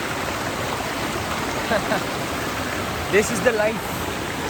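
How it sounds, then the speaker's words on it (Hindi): Steady broadband rush of flowing stream water at a riverside spot in Goa, continuous and close, with someone briefly speaking over it. "ये ऐसा शोर है, पानी का शोर जो शोर होता है ना"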